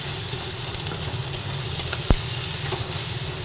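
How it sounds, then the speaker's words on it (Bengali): Kashmiri chili powder is stir-fried in a pan with a brisk, close sizzle. A spatula scrapes and taps against the metal, and one sharp knock stands out midway. "অল্প কাশ্মীরি লঙ্কার গুঁড়ো দিয়ে দিলাম সব দিয়ে আবার সুন্দরভাবে নাড়াচাড়া করে নিই"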